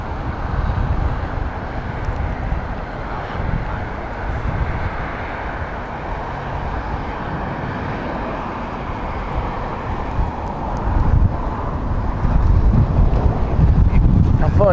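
A WestJet airliner arriving at Heathrow Airport, heard as a steady, broad jet roar that holds for the whole stretch and swells louder near the end, with wind buffeting the microphone.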